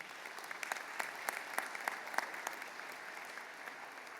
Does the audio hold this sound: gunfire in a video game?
no